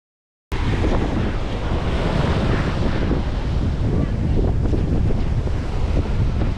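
Wind buffets the microphone at a Florida shoreline in St. Petersburg at sunset, with a loud, continuous rush of surf and gusts after a sudden start.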